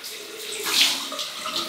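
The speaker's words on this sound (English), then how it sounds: "And I'm going to have cold water rinse." Cold water runs from a tap in a steady, close splashing hiss, rising slightly in the middle.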